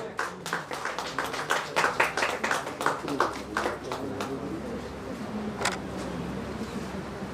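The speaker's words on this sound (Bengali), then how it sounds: "সবাই একটু হাততালি দেবেন" Audience clapping at a seminar and award ceremony as a guest is presented with a bouquet and shawl, a steady patter of many hands filling the room for several seconds before thinning out.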